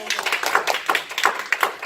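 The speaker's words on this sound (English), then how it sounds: "Give her another round of applause." A small audience at a university college-prep workshop claps in a brief burst of scattered, quick hand claps, close and lively.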